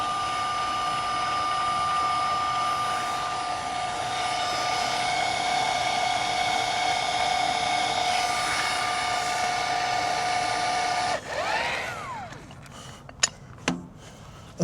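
A RAD pneumatic torque gun tightens bolts to 810 foot-pounds, giving a steady, loud high-pitched whine for about eleven seconds before it cuts off, followed by a few sharp metallic clanks.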